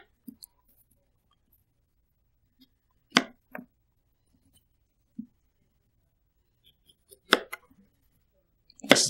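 A knife slices a bush pear on a board, making a few sparse, crisp cuts and taps separated by long quiet gaps, with a short cluster of clicks at the end.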